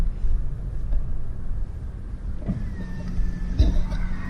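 A Chevrolet Camaro drives along, heard as a low, steady engine rumble and road hum from inside the car, moderately loud and continuous without talk.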